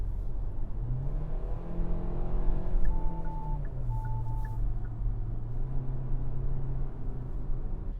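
A 2025 Hyundai Tucson Limited AWD in sport mode accelerates up a highway on-ramp, its engine drone climbing steadily in pitch under continuous road and wind noise, with a brief soft electronic chime partway through.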